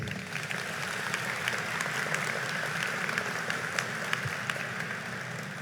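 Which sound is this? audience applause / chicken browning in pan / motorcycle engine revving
audience applause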